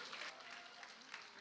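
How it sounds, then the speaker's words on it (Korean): Brief, faint crowd applause at a church summer presentation at Suncheon Dongbu Church, a soft continuous patter of clapping with no distinct individual claps. "박수 쳐주세요."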